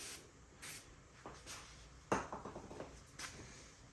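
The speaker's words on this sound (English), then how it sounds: "Spray it down. You can use the soapy water too," Soapy water is sprayed from a bottle onto an old glass windshield being sanded with 2000 grit paper, a few short close hissing squirts mixed with light clinks and handling rubs.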